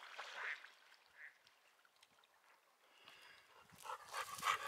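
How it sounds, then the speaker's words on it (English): Black ducks quack at a backcountry pond in scattered bursts, louder toward the end, with dog sounds mixed in. "here go the other two ducks"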